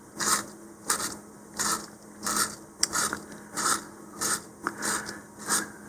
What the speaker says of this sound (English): I'm just going to take the sandpaper. This is 100 grit, and I'm just going to sand down the shoulder a bit here.